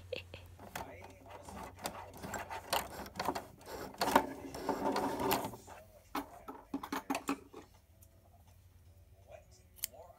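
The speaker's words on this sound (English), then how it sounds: "Got the sewing machine." A sewing machine runs in uneven clicking bursts, stitching close by, with soft whispering and handling noises between runs.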